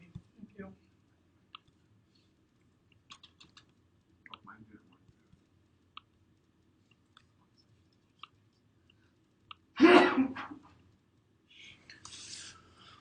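A single loud, close sneeze bursts out near the end of an otherwise quiet stretch, with faint clicks and soft rustles scattered before it.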